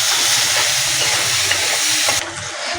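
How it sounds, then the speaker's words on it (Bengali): Onion fries in hot oil until reddish, giving a loud, dense, continuous sizzle and hiss that drops off slightly near the end. "এবার পেঁয়াজটাকে দিয়ে আমি লাল লাল করে ভেজে নেব।"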